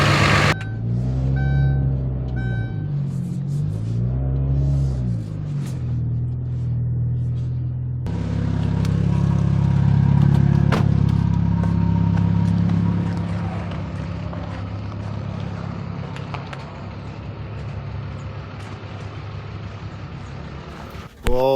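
A car engine turns over with rhythmic cranking, fires up and settles into a loud, steady rumbling idle close by, running continuously for the rest of the span.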